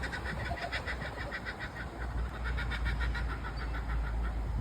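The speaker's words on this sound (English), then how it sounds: "I can't see him, but I can hear him. Mr. Kookaburra." A kookaburra calls somewhere in a park, heard unseen as a repeated rhythmic chuckling call over steady outdoor background noise, moderately distant.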